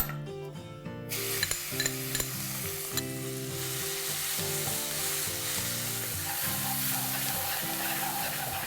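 Crushed green chili thecha hitting hot oil in a tempering with ajwain for Khandeshi aubergine bharit, a sudden burst of loud continuous sizzling with a few stirring clinks, close and steady.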